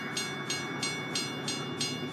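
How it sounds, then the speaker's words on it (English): A train rumbles past at a steady distance, with rhythmic clicking from the wheels over the rails repeating every third of a second. "Here comes the train."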